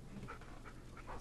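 A dog pants in the horror video game Blair Witch, quick faint breaths repeating in a steady rhythm, close by and quiet, with no talking over it.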